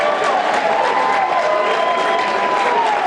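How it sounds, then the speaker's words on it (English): Crowd at a high school boys' basketball game cheering and applauding loudly and steadily throughout, a dense roar with no single voice standing out. "I don't know what Andy was cheering about there"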